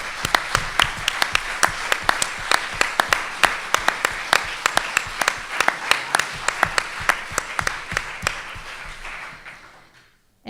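An audience at a diocesan Catholic Action gathering in Vittorio Veneto claps in a sustained, crisp round of applause that holds steady for about ten seconds, then fades quickly to silence.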